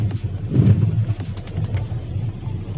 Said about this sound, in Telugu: ఫుల్ ట్రాఫిక్ జామ్ అవుతుంది.